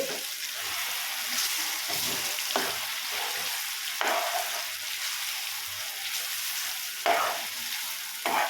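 Spices tempering in hot oil over a low flame for an onion chutney, a continuous bright sizzle with occasional stirring knocks, heard close and with no talking.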